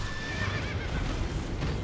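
Horse in Elden Ring's West Limgrave gives a loud, close whinny that falls in pitch over hoof clip-clops, with no talk.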